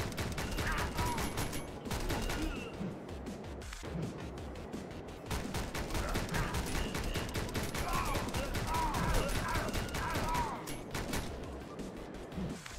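Gunshots in the video game Speed Limit, bursts of rapid firing crackling continuously for over twelve seconds, loud and close, with a voice occasionally mixed in.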